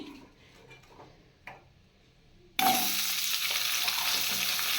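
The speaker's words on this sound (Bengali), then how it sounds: "আলুগুলো ভেজে নেব একটু হালকা করেই ভাজবো আমি" Potatoes dropped into hot mustard oil after a quiet pause with a faint tick, bursting into a loud, steady close-up sizzle that holds to the end.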